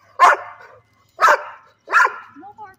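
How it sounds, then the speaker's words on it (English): A dog barks three times close by, with sharp, loud barks spaced about a second apart, each one trailing off briefly before the next. "Stop barking. No barking."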